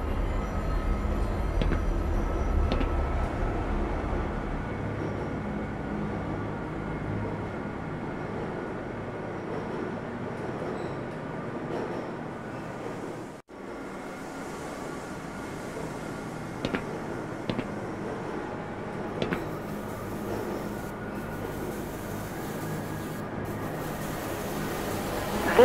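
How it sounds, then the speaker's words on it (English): Train rolling through the Black Mesa facility in the video game Black Mesa gives off a continuous low rumble and rail hum, fairly loud and steady throughout, with a brief dip midway and a few faint clanks later. "This train is inbound from Level 3 dormitories to Sector C test labs and control facilities."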